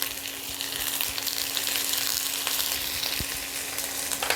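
Chopped tomato dropped onto fried onions in a pan for a pomfret green chilli dish, hissing in a steady close sizzle with a couple of soft knocks and a faint hum.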